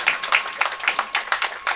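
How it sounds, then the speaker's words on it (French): Applause from a crowd at the inauguration of a swimming federation event in the DRC, rapid dense clapping in repeated swells, fairly close and steady with no talk. "Est-ce qu'on peut applaudir très très fortement"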